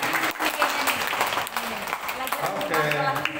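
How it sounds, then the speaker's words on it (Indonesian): A congregation at a church service gives a round of applause, dense clapping filling the space loudly and continuously, with voices mixed in under it. "Tepuk tangan."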